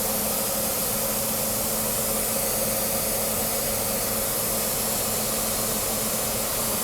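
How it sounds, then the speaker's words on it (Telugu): The locomotive of the 19714 Kurnool–Jaipur Express, just decoupled and started, gives off a steady, even rumble with a broad hiss on a rainy day. It continues unbroken throughout, with no voices. "ఇంజిన్ స్టార్ట్ అయింది."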